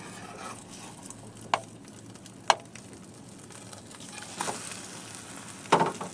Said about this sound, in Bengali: তো এইভাবে ডিমের এই সাইডটা আমরা ভেজে নেব।